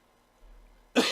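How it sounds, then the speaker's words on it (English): A single sharp cough from someone with a cold, loud and close, bursting suddenly out of near silence at the very end after a faint low rumble. "I apologize again for coughing."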